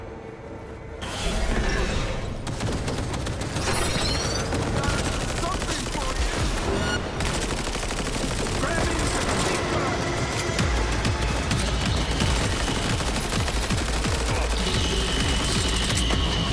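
Panzer turret firing in Cyberpunk 2077 Phantom Liberty, dense rapid bursts of heavy gunfire with mechanical clatter, loud and sustained across the whole stretch after a brief quieter opening.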